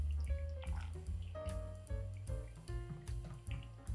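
Water trickles and pours over Indonesian coffee grounds in a Hario V60 cone, a steady soft stream with faint dripping underneath, close by and quiet, with no talking.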